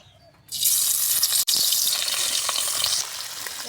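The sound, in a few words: fish frying in hot oil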